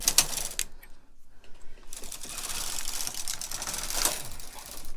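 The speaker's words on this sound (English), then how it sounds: "we're pushing in 1 needle on the carriage side and 2 needles on the opposite side, and we're knitting 1 row" A knitting machine carriage is pushed across a row of bulky yarn, giving a close, steady mechanical clatter and rattle that keeps going for the whole stretch, with a short dip near the one-second mark.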